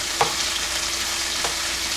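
Chipotle shrimp for a quesadilla sizzling in a hot pan, a steady close crackling fry with a couple of brief stirring scrapes.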